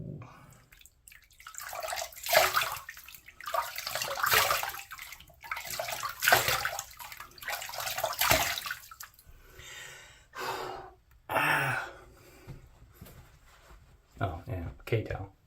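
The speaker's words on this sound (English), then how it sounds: "Okay, time to rinse the face." Water splashes and drips in irregular bursts as a face is rinsed after a wet shave with a Gillette Fatboy razor, with close breathing, gasps and snorts between the splashes.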